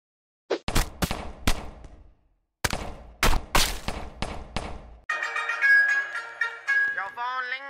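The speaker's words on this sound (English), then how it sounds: "Your phone ringing!" A phone ringtone plays in the Melon Sandbox game as a bright, tuneful, electronic melody. It follows a loud stretch of rapid gunfire bursts broken by a short silence.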